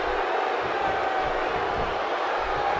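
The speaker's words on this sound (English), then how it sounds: "You can bet this crowd is fired up for this match." Steady roar of an arena crowd in the WWE 2K16 wrestling video game during a no-holds-barred Batista vs. Kevin Owens match, a continuous wash of cheering with a faint tone running through it.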